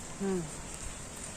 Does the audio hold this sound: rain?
yes